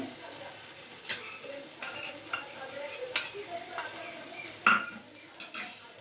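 Papaya and soybean kosha being stirred in ghee in a pan, with a soft continuous sizzle under scattered scraping and clinking spoon strokes, a few sharper knocks standing out.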